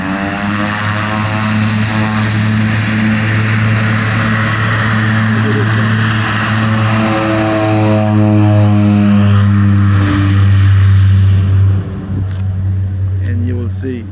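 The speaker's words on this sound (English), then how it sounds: "You can hear the plane, the echo of the plane just going through the mountains." A propeller airplane engine drones loudly and steadily as it takes off from Saba, its low rumble swelling and echoing through the mountains, with voices speaking over it.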